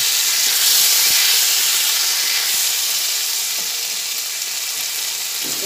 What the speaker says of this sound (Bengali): সব মিশিয়ে এরপরে ভেজে নিচ্ছি।